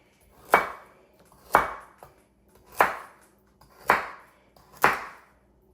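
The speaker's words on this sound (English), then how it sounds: "now we're going to cut up our carrots" Knife chopping carrots on a cutting board at home, five sharp, evenly spaced chops about a second apart, each with a quick bright attack and short decay, close and clear with no talking.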